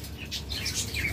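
Chirps from a pair of violet opaline pet birds for sale, short high tweets repeating close by over a low steady background hum, with no talking.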